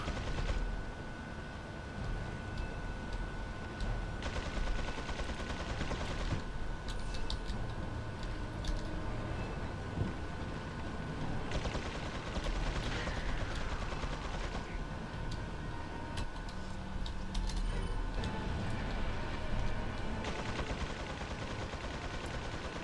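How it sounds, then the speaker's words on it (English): Turrets firing in Resident Evil 4, dense ongoing gunfire bursts and mechanical clatter blended into a busy, steady game soundscape with no clear pauses. "Man, there's like five turrets."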